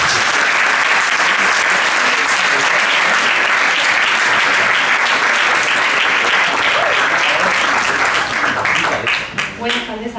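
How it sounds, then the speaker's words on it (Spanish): An audience applauding after being asked to welcome Mercedes, a young doctor in chemical engineering, with dense, loud, steady clapping that fades in the final seconds as a voice starts to speak. "quiero darle un fuerte aplauso a Mercedes"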